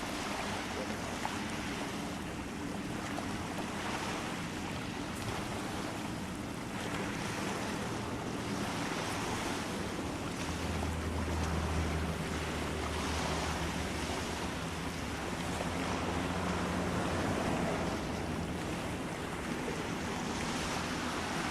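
Steady rushing water with gusting wind where the Angara River meets Lake Baikal near Irkutsk, a continuous broadband wash of waves and wind buffeting the microphone, no voices.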